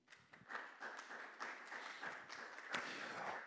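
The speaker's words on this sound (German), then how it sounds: "Dafür nochmal einen ganz großen Applaus" Applause from the audience at a brass-music association's general assembly in Lower Austria, a fairly soft, even crowd clapping that swells in after a quiet start and carries on steadily.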